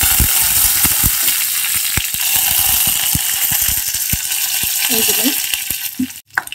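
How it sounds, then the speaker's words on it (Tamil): Mustard seeds, fenugreek, urad dal and two broken dried red chillies sizzle and crackle in hot oil for a rasam tempering, a loud steady frying hiss dotted with sharp popping bursts, with a brief spoken word. "கடுகு, வெந்தயம், உளுந்து, 2 காஞ்ச மிளகா கிள்ளி வச்சுருக்கேன். இப்போ அதை தாளிச்சிடலாம்."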